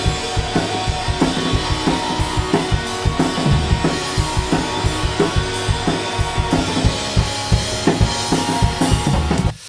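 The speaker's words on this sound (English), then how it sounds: "we've got quite a lot of bleed coming through from the guitars there" Drum kit picked up through overhead and room microphones at a live session, with guitar bleed spilling into them; steady rhythmic hits of kick, snare and cymbals run throughout under a dense wash of guitar tone.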